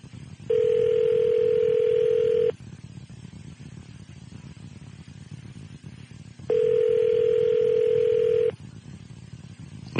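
Telephone ringback tone heard during an outgoing call: two long steady rings, each about two seconds, separated by a pause, loud and clear over a faint background hiss.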